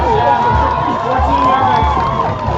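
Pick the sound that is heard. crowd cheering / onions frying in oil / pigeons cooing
crowd cheering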